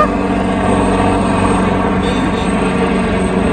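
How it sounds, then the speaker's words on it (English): A helicopter flies low and close overhead at a park, its loud, steady engine and rotor drone filling the moment without talk. "I'm so excited you got to see a helicopter."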